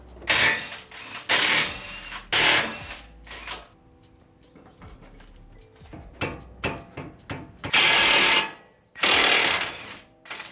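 Loud bursts from an impact wrench rattle in several long runs, separated by clanks and clattering of tools and metal, during repair work on an Acura TSX.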